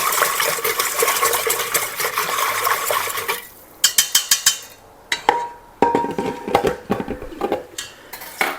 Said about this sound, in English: I like to mix my yeast with a whisk.